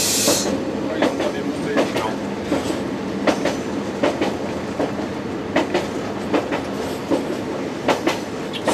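A train rolls slowly over points at a station entrance, its wheels giving a loud, irregular clickety-clack of sharp knocks over a continuous rumble, with voices talking nearby.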